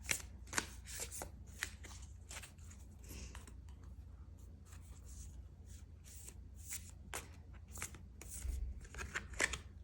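Tarot cards are shuffled by hand at close range in a quiet room, with a rapid series of soft riffling flicks and papery slaps coming in irregular bursts.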